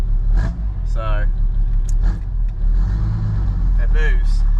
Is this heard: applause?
no